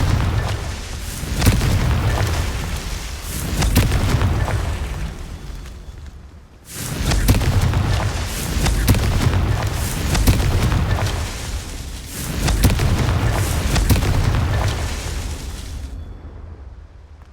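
Repeated Confringo explosive spell blasts in the video game Hogwarts Legacy, three loud booming bursts in succession, each swelling with a heavy low rumble and crackling debris before fading out.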